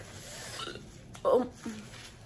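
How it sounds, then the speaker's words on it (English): A single sharp hiccup after eating spicy street tacos with green sauce, brief and close, rising out of a murmur of background room noise. "The hiccups are real. I hiccup when things are too spicy."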